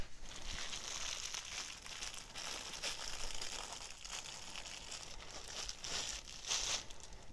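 Plastic packaging around a Kemimoto swingarm bag for a motorcycle is pulled and torn apart, a continuous close crinkling and crackling with brief louder rips, no voices.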